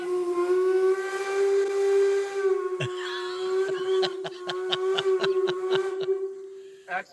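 A Northern Central Railway steam locomotive sounds its whistle in one long, loud, sustained tone, followed by a rapid series of sharp mechanical clanks and puffs as the engine gets moving.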